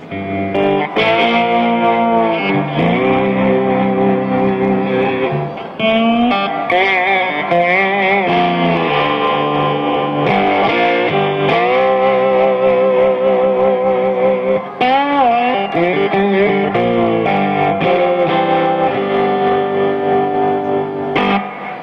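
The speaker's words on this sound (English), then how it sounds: "Here's what it sounds like when I play a little slide guitar." Slide guitar played through a Supro tube amplifier, gliding notes with warm distortion and reverb, sustained phrases with brief pauses, loud and close, no voices.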